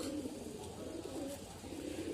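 Pigeons coo softly in low, throaty repeated calls over a steady murmur of background noise.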